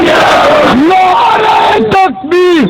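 A large crowd at a religious gathering roars the Takbeer slogan in loud, drawn-out shouts answering a leader's call, full and close.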